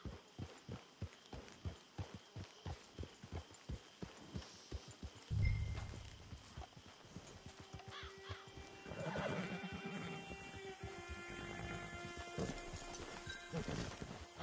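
A horse in the Red Dead video game: regular clip-clop hoofbeats thud along for several seconds, then a loud whinny and neighing rise up, with soft ambient game sound beneath.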